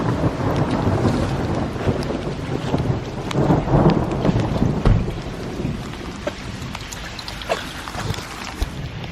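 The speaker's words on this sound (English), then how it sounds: "That in the background is thunder." Thunder rolls and rumbles through a rainstorm in the Pyrenees, steady rain and crackling drops filling the whole stretch as the deep booms swell and fade.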